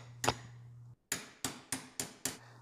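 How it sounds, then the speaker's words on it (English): Hammer blows leveling dented car body sheet metal during autobody repair, a run of six sharp metallic strikes, the first one ringing and the next five coming in an even rhythm, close and clear with no talk. "Now I'm using it in conjunction with the hammer to spread out the energy of the blow so it levels out that metal."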